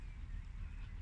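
Ducks and geese at a Thai farm give a dense, steady chorus of honks and quacks at close range, filling the whole moment without pause.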